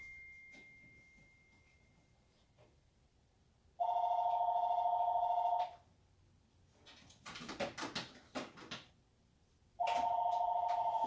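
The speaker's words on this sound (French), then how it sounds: "Attendez, je vais couper le téléphone." A telephone rings in two loud, sustained electronic trills separated by a few seconds of quieter rustling and handling noise, with no speech over it.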